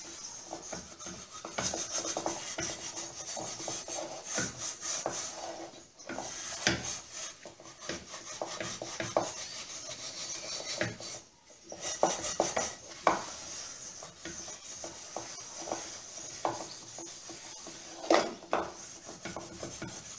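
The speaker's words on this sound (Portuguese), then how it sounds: "Aí eu vou usar o brilho alumínio aqui para me ajudar." A very dirty aluminum pot scrubbed with aluminum polish, an uneven run of raspy rubbing strokes with metallic scraping, some bursts louder than others, close and without talk.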